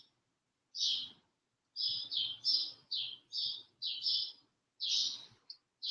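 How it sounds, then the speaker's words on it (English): Birds chirp outdoors in a string of short, bright bursts of tweets with brief pauses between them. They sound fairly close and clear against otherwise quiet surroundings. "the sound of the birds chirping outside."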